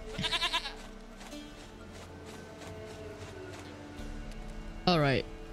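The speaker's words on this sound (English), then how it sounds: "Goat of mine, dearest, sweetest goat." A goat in the video game The Witcher 3 bleats twice, a short wavering cry at the start and a louder one near the end, with a low ambient hum between.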